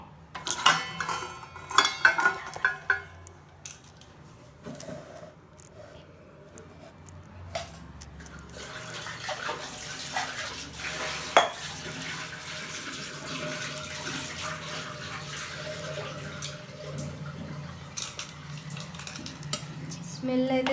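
Aloe vera juice being filtered through a strainer in a kitchen, with light metallic clinks of utensils and bowls, soft liquid trickling and stirring, fairly quiet and close.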